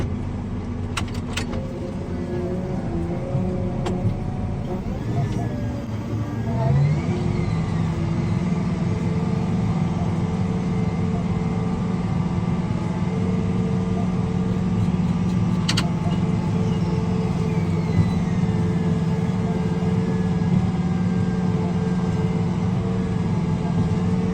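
Tractor engine droning steadily while plowing a field after the soy harvest, a loud continuous low hum with a slight rise in pitch partway through and a few faint clanks, running alone without talk.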